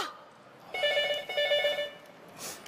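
A telephone bell rings loudly in two close bursts of bright, metallic trilling, the second stopping short, followed by a quieter tail in an indoor setting with no talk.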